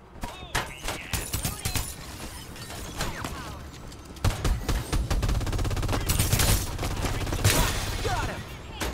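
Rapid automatic gunfire and explosions fill a Farlight 84 battle-royale match, with dense sustained bursts of shots and impacts under game voice callouts.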